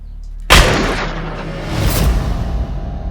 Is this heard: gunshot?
yes